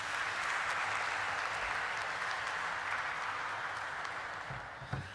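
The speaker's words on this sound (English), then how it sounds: "with a huge round of applause" An audience at a company stock listing ceremony claps steadily in a thick, even wash of applause that gently tapers off near the end.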